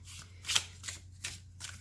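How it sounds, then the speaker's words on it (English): Tarot cards being overhand shuffled, giving four soft papery riffling bursts spaced through a quiet stretch over a low steady hum, the second burst loudest. "They overhand shuffle really nicely."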